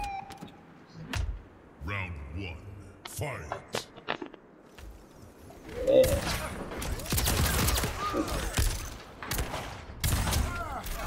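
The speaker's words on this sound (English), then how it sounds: "I shoot through all that. Just keep shooting." Video game gunfire from a King of the Hill match, with scattered shots early on and then dense, loud bursts of rapid fire in the second half, mixed with background talk.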